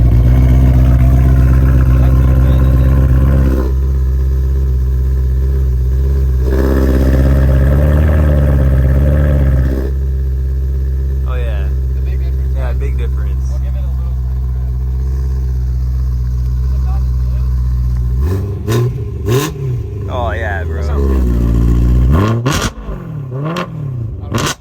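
BMW M3 E92 and manual M4 F82 engines and exhausts, a steady drone that swells into a revving pass before dropping away, then deep bursts near the end, with people talking over parts of it.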